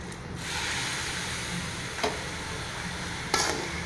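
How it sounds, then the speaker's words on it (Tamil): Rava ladoo mixture stirred steadily in a pan after a quarter litre of milk goes in, a continuous scraping, soft sizzling texture with two brief louder scrapes near the end, no voices. "இப்போ கைவிடாமல் நல்லா இந்த மாதிரி கலந்து விடுங்க."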